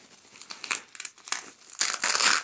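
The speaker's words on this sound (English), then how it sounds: "Let me throw my scissors back here. Just gonna casually snip right into that." Scissors snip and cut into the crinkly plastic packaging around a book, giving close, dry crackles and rustles in uneven bursts that grow louder toward the end, with no talking.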